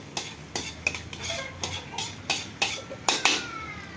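Ingredients for pansit being sautéed in a pan: a utensil knocks and scrapes against the metal in a steady rhythm of about two strikes a second, over a soft sizzle, close by and without talk.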